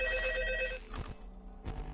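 An old-style telephone rings inside the Five Nights at Freddy's 2 horror video game, a loud steady electronic bell lasting under a second, followed by soft thuds and quiet background noise.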